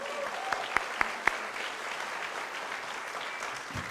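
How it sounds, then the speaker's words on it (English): Sustained applause from an audience at an awards convention for the organizing committee, a broad even clatter of many hands with a few louder, sharper claps near the start, continuing steadily without speech. "Give them a big round of applause."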